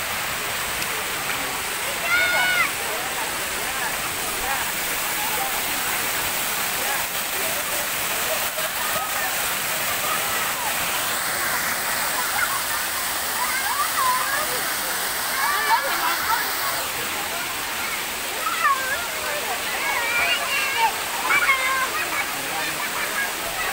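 A waterfall in Parongpong, Lembang, West Java makes a loud, constant rushing roar of falling water throughout, with faint voices now and then in the background.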